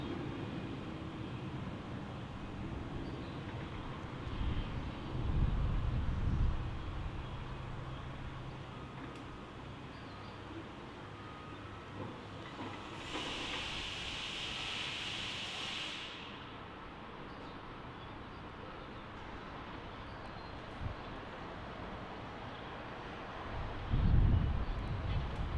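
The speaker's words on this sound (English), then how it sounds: "Smooth and easy takeoff there by that A220." Airbus A220 airliner taking off at Salt Lake City, a distant low engine rumble and wind-like roar rising briefly in the middle and fading, faint against steady outdoor noise.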